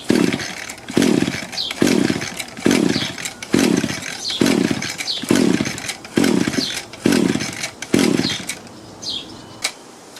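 Echo PE-200 two-stroke edger engine with choke on, pulled repeatedly without firing: about nine evenly spaced rasping starter-cord pulls, each a short burst, close and fairly loud with no talk.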